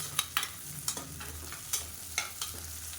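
Onions and tiny chillies sautéing in a pan for Madurai-style chicken uppu kari, a spoon scraping and tapping in repeated strokes over a low, steady sizzle.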